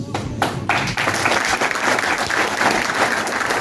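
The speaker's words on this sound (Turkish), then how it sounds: "Bir alkışlayın şöyle kendimizi" A crowd at a large political rally in Balya claps loudly and continuously, dense applause close by that fills the whole stretch without a break.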